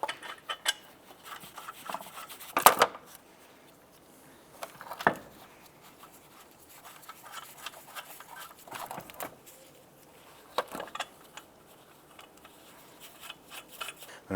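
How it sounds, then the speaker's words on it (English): Lug nuts being threaded by hand onto a front wheel of a 2001-2005 Honda Civic: a few faint, brief metallic scrapes and rubbing clicks scattered through a quiet stretch, with no talking. "And we'll get those lug nuts started."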